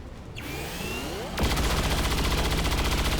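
Weapon fire in the video game XCOM 2, a sharp sweep of sound that breaks into a loud rapid burst of shots, dense and continuous to the end.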